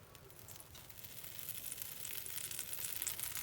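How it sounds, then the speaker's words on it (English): A tablespoon of butter sizzles in hot vegetable oil in a pan with a steady, close crackling hiss that grows gradually louder and denser as it heats. "So now we're going to add about a tablespoon of butter with it."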